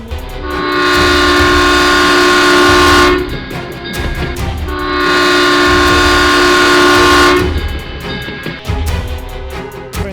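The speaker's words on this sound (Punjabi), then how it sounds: "ਟ੍ਰੇਨ ਤਾਂ ਤੁਹਾਡੇ ਸਾਹਮਣੇ ਆ ਰਹੀ ਹੈ" A train sounds two long, loud horn blasts over the heavy rumble of its approach to a level crossing, very close by.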